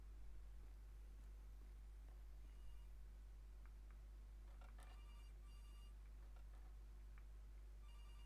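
A telephone rings inside the horror video game Case: Animatronics, a faint repeated ringing over a steady low background hum, with brief electronic tones scattered through the quiet scene.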